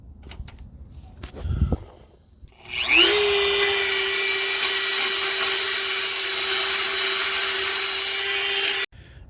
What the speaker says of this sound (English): finally got those two bolts off